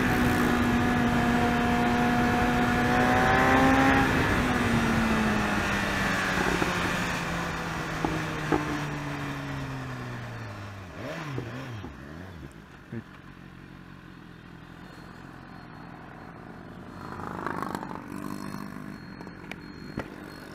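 BMW S1000RR motorcycle engine in city traffic, a loud close revving note climbing then falling away over the first ten seconds, followed by quieter rumbling traffic noise with brief knocks.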